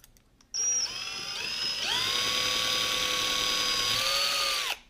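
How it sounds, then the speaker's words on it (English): A power drill whines steadily for several seconds, its pitch rising once as it speeds up, then stops. "Get the drill there. There we go, that's our hole right there."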